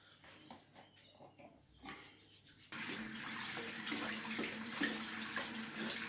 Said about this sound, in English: First of all, I'm going to wash my hands.